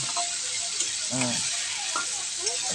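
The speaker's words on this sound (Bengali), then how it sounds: "এখন মশলাটা আমি একটু তরকারির সাথে একটু ভালো করে কষাই নেব" Ginger-cumin spice paste sautéing with vegetable curry in a pan, a continuous soft sizzle and hiss with faint voice-like tones woven through, moderately quiet and steady.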